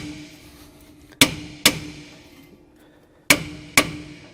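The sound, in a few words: hitting a stuck truck brake drum to shock it loose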